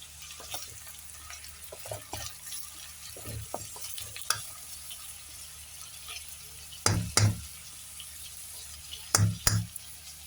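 Tomatoes sautéed and stirred in a pan, a soft continuous sizzle under scattered light scrapes, then a few louder clanks of the spoon against the pan near the end.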